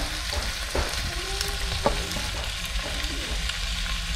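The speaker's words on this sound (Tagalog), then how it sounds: "Tapos yung itlog. Haluin nyo lang ng ganyan." Egg stirred into sautéing bitter gourd and tomatoes in a pan, a steady frying sizzle with a few sharp utensil scrapes against the pan, close and continuous, no talking.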